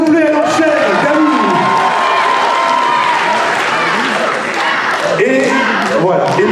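A crowd at the Mang'Azur 2023 selection event applauds and cheers for Galou, the clapping partly masked by a loud voice and tonal sounds running over it.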